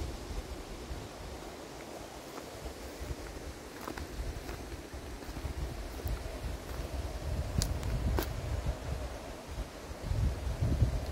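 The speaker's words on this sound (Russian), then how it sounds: "Ну вот ветер нарушает все планы" Steady low wind rumble buffeting the microphone at Lake Seliger, with a few faint clicks and knocks on top; no voices.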